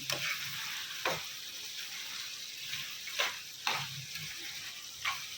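Chicken curry with coriander and mint simmers and sizzles in a pan, a steady frying hiss broken by a few sharp stirring scrapes, close and continuous with no talking.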